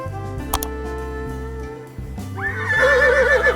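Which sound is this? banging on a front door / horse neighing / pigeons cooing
horse neighing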